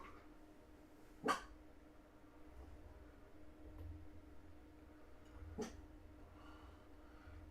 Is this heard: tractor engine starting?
no